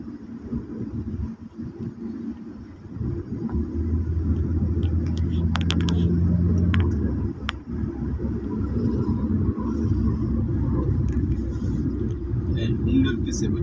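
Road traffic on a Dhaka street: a steady, loud rumble of cars and engines close by, continuous throughout, with someone talking over it.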